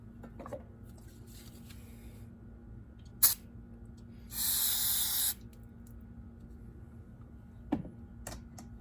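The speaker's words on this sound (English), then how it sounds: "We're gonna spray this out with some brake parts cleaner" Brake parts cleaner sprays in one steady hiss of about a second from an aerosol can into a small Homelite engine part, with scattered clicks and handling noises in a quiet room.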